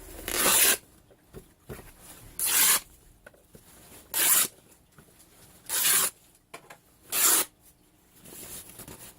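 A linen sheet ripped by hand into narrow strips, five loud separate tearing bursts at roughly even intervals with quiet pauses between them.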